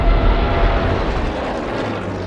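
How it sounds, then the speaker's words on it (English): WWII bomber planes in flight give a dense, continuous low engine rumble and broadband roar, loud and steady throughout with slight swells, no voices present. "Richthofen and his remaining 123 working bomber planes launch a series of raids on Grozny"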